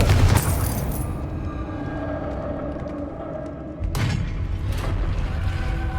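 A fiery Confringo blast spell from the Hogwarts Legacy video game erupts in a loud booming burst, its rumble trailing away before a second explosive hit bursts near the end.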